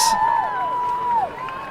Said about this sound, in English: as you can hear the people cheering